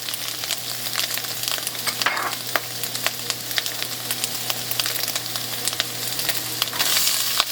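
Tomatoes, capsicum and shallots sizzle and fry in a pan for pineapple fried rice, a steady close hiss with scattered clicks of a spatula stirring throughout, no voices.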